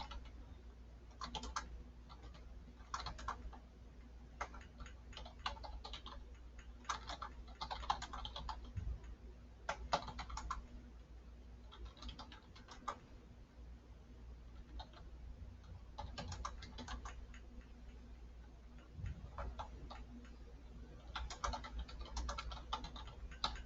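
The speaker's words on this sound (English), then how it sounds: "bear with me while I write, guys, and I know that it takes a second to type," Steady typing on a computer keyboard, quiet close clicks in irregular bursts with brief pauses, over a low hum, no voices.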